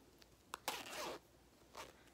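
A zipper on a realistic forest dragon fursuit is drawn open in a few short quick pulls, close and fairly quiet, with brief pauses between strokes.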